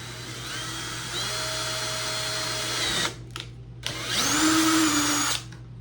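A power drill with a 3/16 bit bores holes in a proton pack prop, whining steadily for about three seconds, pausing with short bursts, then spinning again in a higher-pitched run before stopping.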